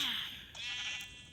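A sheep in Minecraft bleats as it is struck with a critical hit, one short, clear digital baa that fades quickly, with no talking.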